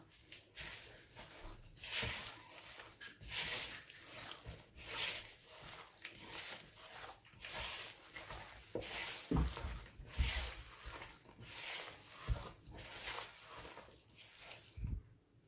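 Minced chicken seekh kabab mixture with fresh coriander squished and kneaded by hand, a steady run of soft wet squelching pulses at close range, fairly quiet throughout.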